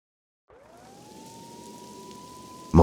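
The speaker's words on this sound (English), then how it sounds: "Mona must have heard the sirens too." A police siren in the video game Max Payne 2, a single steady wail rising into a sustained tone over a hiss like rain, ending in a sudden loud thump.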